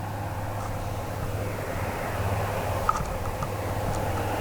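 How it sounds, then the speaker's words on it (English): A seaplane flies in over Lac du Salagou to land on the water, its engine a steady, fairly distant drone that holds evenly throughout with no talk. "there's our first landing of the water plane coming in"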